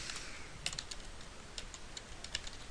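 Rapid irregular clicks of keys being typed on a computer keyboard during a software administration session, faint and close with no talk, light taps scattered over a steady background hiss.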